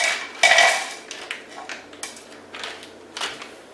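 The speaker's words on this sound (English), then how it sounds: "So just toss this into a dry pan" Ingredients for Vietnamese chicken phở tossed into a dry hot pan, with sharp clattering scrapes and knocks of food and utensil against metal, a few distinct bursts spread over several seconds, close and fairly loud.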